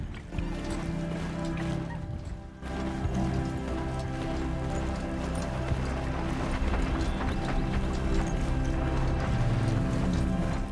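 Hoofbeats of a ridden mount in the Horizon Zero Dawn video game, a steady galloping clip-clop running throughout against a continuous game soundscape of music and ambience, with no talking.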